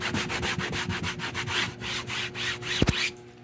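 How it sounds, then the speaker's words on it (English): Close, rhythmic scrubbing strokes on the leatherette case of a GE record player being cleaned with Simple Green, a steady back-and-forth rasp with a brief louder knock near the end. "you just want to kind of like do a general scrub down of the leatherette case"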